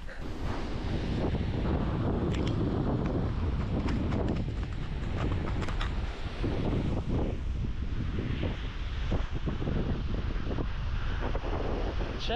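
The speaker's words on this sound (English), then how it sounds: "See if it's still really windy." Strong wind blasts and buffets the microphone on a beach during a kayaking outing, a loud continuous roar with gusty bursts and surf underneath across the whole stretch.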